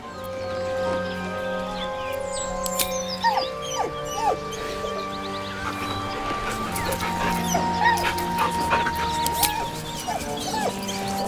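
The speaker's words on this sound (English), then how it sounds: "With a deep, heartbroken whine, the dog bows his head." A dog in the Baldur's Gate 3 video game lets out repeated high, wavering whines and whimpers over a sustained musical score, the cries coming in short bursts throughout.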